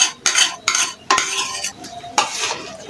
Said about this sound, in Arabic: هنقلبهم مع بعض كويس